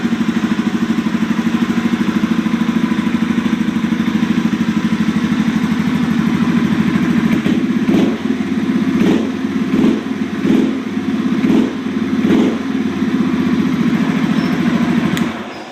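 A 2010 Yamaha TW200 motorcycle engine idling with the choke off, a steady, close, loud putter that holds evenly throughout, with a few brief bumps in revs near the end.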